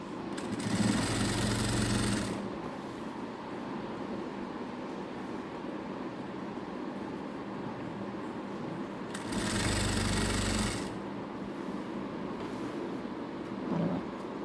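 A sewing machine stitches a paper canvas neck piece in two bursts of steady, whirring motor noise, about two seconds each, separated by a long stretch of quieter background hum.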